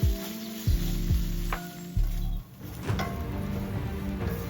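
Squid rings roasting in a pan on a gas stove, a close, bright sizzle interrupted by a few low rhythmic scraping strokes, then a steady crackling fry to the end.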